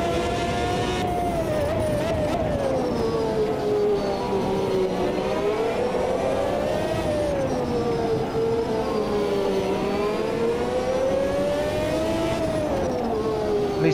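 Historic Formula One car engine in the Automobilista 2 racing game, a loud continuous high-revving wail rising and falling through gear changes and corners, with brief faint speech mixed in.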